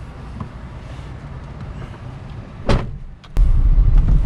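A used 2004–2005 Toyota Corona car in Kerala, heard from inside as a steady close rumble with a brief whine, a sharp knock, then a louder, heavier drone.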